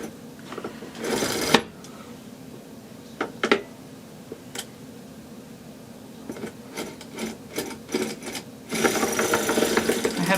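Hand-cranked machine worked to make a baby hat gives off a dense rattling, scraping mechanical whir with sharp clicks. It runs loud at the start, dips, then surges again near the end.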